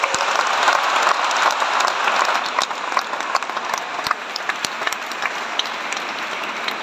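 A church congregation applauds during a parish announcement, sustained dense clapping that fills the room, then thins into scattered claps, with a faint murmur underneath.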